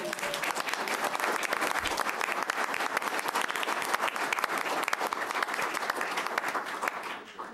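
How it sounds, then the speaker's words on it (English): Dense, steady applause from an audience at a school board of education meeting in Olathe, recognizing community partners; loud, continuous clapping for about seven seconds, tapering off at the very end. "Let's give them a round of applause."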